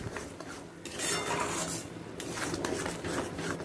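Spoon stirring turmeric and Kashmiri red chilli powder into pointed gourd in a pan, with steady scraping and clinking of utensil against the metal pan and no talk.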